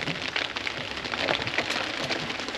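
Heavy rain pours steadily onto Dal Lake and a shikara boat in Srinagar, Kashmir, a dense continuous hiss of drops with scattered sharper patters, close and loud, with no talk over it.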